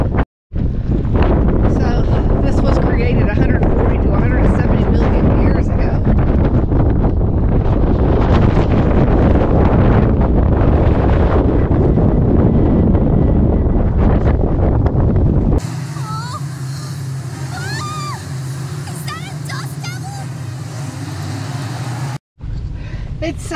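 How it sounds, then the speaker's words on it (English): Heavy wind with blowing sand buffeting a microphone at Goblin Valley State Park, Utah, a loud continuous roar with gusts, dropping to a quieter rumble near the end. "It's so windy and sandy out there."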